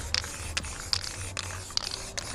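Spray can misting paint onto a Fiat Uno SX car body during prep work, several short hissing bursts in a steady rhythm, close and fairly quiet over low background hum.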